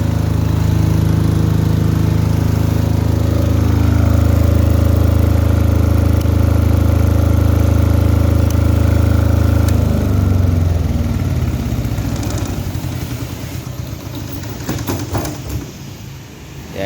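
A Kipor KDE6500T silent diesel generator runs with a steady, loud, low engine drone up close. Partway through it slows and becomes rougher, with scattered knocks and rattles as it winds down.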